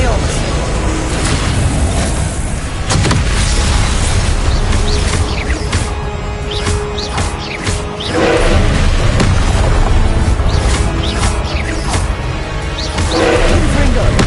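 Confringo blasting spells explode over and over in Hogwarts Legacy, dense booming blasts and rumbling combat noise filling the whole stretch, with a voice calling out spells throughout.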